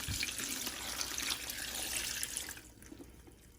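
Running water rinses out a kitchen compost pail used for food scraps, a steady hissing spray that cuts off after about two and a half seconds, leaving faint drips.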